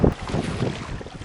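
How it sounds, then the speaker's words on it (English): Gusty wind buffets the microphone while paddling on a windy, choppy lake, a brief rough rumble with no talk. "It's a wee bit windy and choppy."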